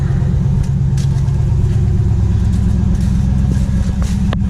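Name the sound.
pickup truck engine at cold fast idle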